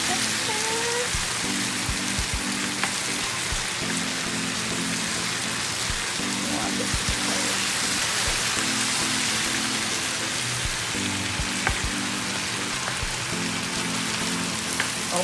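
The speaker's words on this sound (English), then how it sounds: "I'm gonna drop all the peppers now because everything seems to be frying up nicely" Peppers fry in a pan with shrimp and lobster, a steady, loud crackling sizzle that never lets up, and a faint rhythmic hum underneath.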